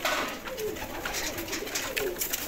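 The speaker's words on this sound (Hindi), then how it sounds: "आ वेखो माशाल्लाह कबूतर अच्छे कबूतर" Pigeons cooing in soft, repeated low calls, several birds close by, with a faint rustle of activity around them.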